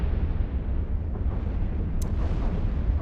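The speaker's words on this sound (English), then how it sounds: "Oh, big explosion" A big explosion in the space game EVE Online booms as a loud, dense, sustained roar with heavy low rumble and a sharp crackle midway, with no voices.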